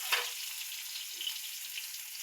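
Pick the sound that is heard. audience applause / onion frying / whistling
onion frying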